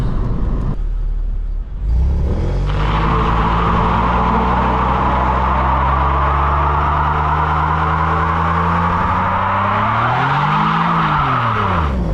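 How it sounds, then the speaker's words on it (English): A Jaguar S-Type holds a long, loud burnout, its tires squealing steadily over a rumbling engine for about ten seconds before the revs swoop up and then drop back near the end. "It will do a burnout."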